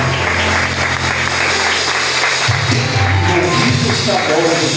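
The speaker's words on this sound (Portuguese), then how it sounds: "aplaude e glorifica o Senhor." A church congregation applauds during a Sunday worship service, clapping blended with low musical accompaniment and voices throughout.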